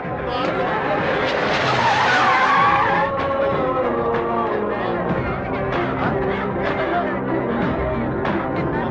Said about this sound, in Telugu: లారీ వాడు గుద్దేసిపోయాడు